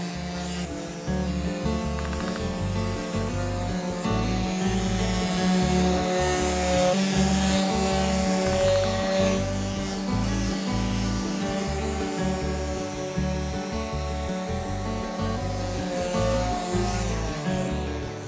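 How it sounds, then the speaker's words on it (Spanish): An orbital sander with fine-grit sandpaper works pine wood boards for a concrete bench, giving a steady, loud electric buzz with a pulsing rhythm that runs continuously and alone. "Para este trabajo he utilizado la lijadora orbital y una lija de grano fino."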